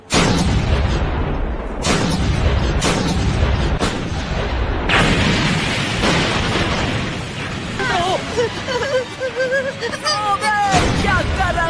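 Pirate ship cannons firing during a sea battle in a Hindi-dubbed One Piece anime episode, a string of loud booming blasts layered with rumbling explosions and excited shouting voices.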